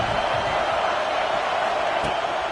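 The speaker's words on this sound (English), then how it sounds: "This crowd bringing the energy and noise early" Stadium crowd at a college football game, Florida against App State, a steady loud roar of many voices filling the whole moment without letup.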